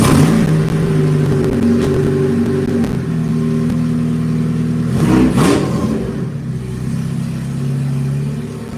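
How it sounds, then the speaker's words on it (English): A race car engine at Dixieland Speedway revs on a cold start, a steady close idle rumble with a sharp rising rev burst near the middle before settling back down. "Did he just rev that on a cold start?"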